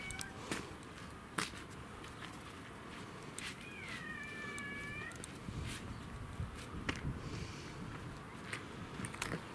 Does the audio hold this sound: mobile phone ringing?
no